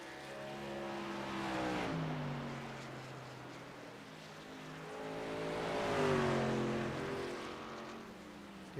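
Race truck engines at Iowa Speedway in an iRacing truck series event, loud droning roars that swell and fade as trucks pass by twice, pitch bending as each goes past.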